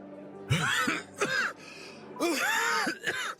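A sick man coughs harshly in two rough clusters, close and fairly loud, with a raspy throat-clearing quality and brief quiet between them.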